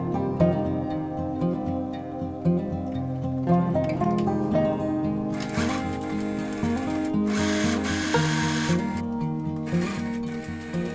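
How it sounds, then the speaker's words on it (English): Sewing machine stitching fabric headbands, a steady continuous mechanical hum and whir running throughout at moderate loudness, with denser bursts partway through. "I'm going to just go straight on to the sewing table and get started with some sewing."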